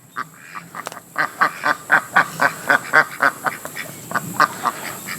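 Ducks resting near a farm dam quack in a steady run of loud, close calls, about a dozen evenly spaced quacks after a quieter start, with no talking.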